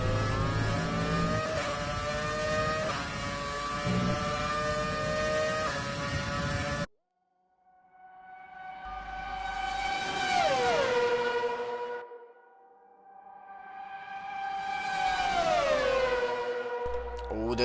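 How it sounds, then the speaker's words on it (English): Classic race car engines in a Group 2 race battle, heard onboard, hold a loud steady high-revving drone, then drop out briefly before two rising and falling engine passes swell up and fade. "These cars are classic cars and they sound incredible."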